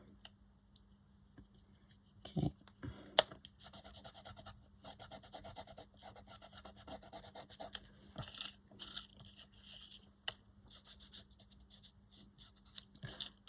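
Material rubbed onto a collage book page makes soft, faint, irregular scraping and rasping strokes with small taps, continuing close up for several seconds with no talk.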